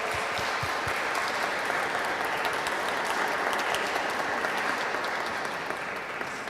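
Audience applause for a doctor after her presentation, a steady, full wash of clapping that holds at even loudness throughout, with no talking.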